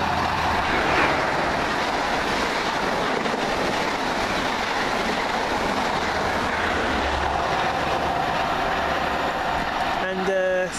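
A Great Western express from Swansea to London Paddington roars through Pencoed station, a loud steady rumble of wheels on rail passing close, ending with a brief rhythmic clatter and a squeal.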